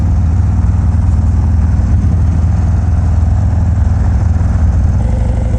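A 2019 Harley-Davidson FXDR 114 fitted with a Bassani Road Rage exhaust rumbles loudly and steadily while riding, a deep continuous engine drone with no speech.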